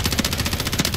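Submachine gun fire in Call of Duty: a loud, rapid, evenly spaced burst of shots that fills the whole moment, with no one talking over it.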